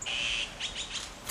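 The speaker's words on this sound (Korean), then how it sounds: "소리를 내자 나뭇가지에 있던 새들이 날아온다" Wild birds chirp as they fly down from tree branches to a raised hand holding peanuts, a few bright close tweets and short calls in quick succession with no talking.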